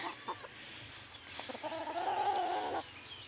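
A chicken clucks a few short times and then gives a longer, louder drawn-out cluck, close by and fairly quiet.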